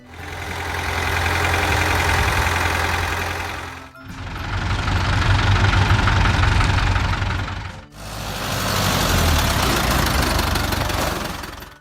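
A Ford 5000 tractor engine, a 1965 model, idles steadily with a low, knocking rumble, running in three continuous stretches separated by brief cuts.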